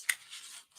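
A single quick snip of scissors trimming the sticky corner of paper, crisp and close, followed by a soft rub of paper that fades out.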